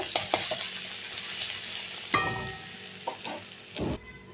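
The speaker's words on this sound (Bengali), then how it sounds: "এটাকে একটু লাল লাল ভাজা করব" Crushed garlic frying in hot oil for tempering, a close, steady sizzle broken by several sharp scraping stirs of a utensil against the pan.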